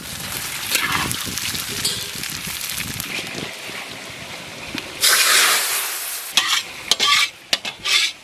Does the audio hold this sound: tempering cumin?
yes